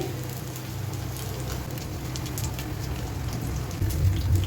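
Shami kofta fry in hot oil in a home kitchen, giving a steady, dense sizzle and crackle close by that swells slightly louder near the end.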